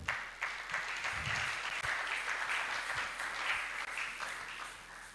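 A church congregation applauds steadily during a special week of services. The clapping is dense and continuous, fills the room, and carries a few louder claps and faint voices underneath.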